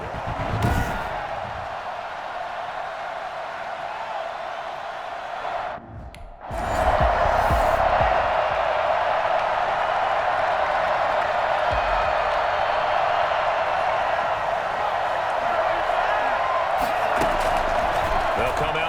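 Stadium crowd in Madden NFL 21 roaring steadily throughout, loud and sustained, with a brief drop in the middle before the cheering surges back, a dense wall of fans ahead of a football game against the New York Giants.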